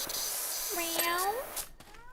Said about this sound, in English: Oh, my kitties. Why are you making noises?